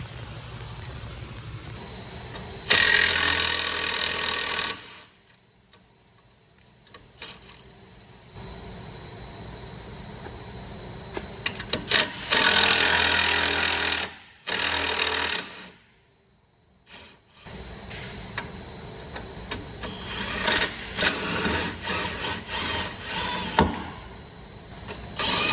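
Power tools, likely impact or ratchet tools, loosen the strut top hat bolts on a 5th gen Camaro during a coilover install, in loud sustained bursts broken by quiet gaps.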